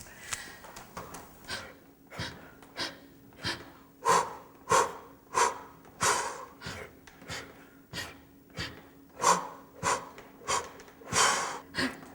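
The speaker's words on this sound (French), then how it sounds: "j'entendais vraiment le son de ta respiration" Slow, audible breathing, close and clear, with about a dozen regular inhale-exhale cycles that swell and fade in a steady rhythm, some breaths sharp and snorting, with no talk.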